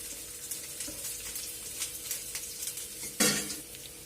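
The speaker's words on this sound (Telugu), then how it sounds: "అల్లం ముక్కలు, వెల్లుల్లిపాయ ముక్కలు వేసి కొద్దిగా ఫ్రై చేయాలి." Ginger and garlic pieces fry in a little oil in a pan, a steady sizzle broken by stirring scrapes, with one louder clatter near the end.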